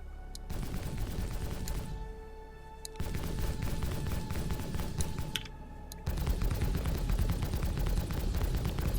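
Sustained rapid turret gunfire from a size 5 turret with size 4 weapons aboard the Carrack ship in a space video game, loud and continuous bursts broken by two brief pauses, with no talking.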